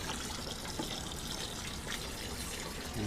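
Water gushes steadily into a container in a chemistry lab, topping up a bath around a pump motor housing during a Grignard reaction setup; a continuous, close, moderately loud rushing flow with no talk.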